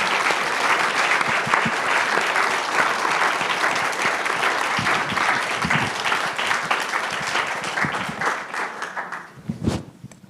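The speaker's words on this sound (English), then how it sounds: "Let's give a warm round of applause for this panel." A panel at the Juneteenth Freedom Summit 2023 receives warm audience applause, a loud sustained roar of many hands that tapers off over about ten seconds into a few last claps.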